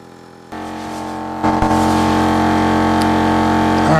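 A Gobege portable air compressor wired straight to a car battery kicks on with a sudden jump, then runs as a loud, steady, buzzing motor drone with a rising pitch as it works, close and alone.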